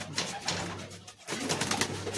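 Pigeons in a loft, a non-racing line kept by a hobbyist, giving soft repeated coos in short pulses over low background noise, close and fairly quiet.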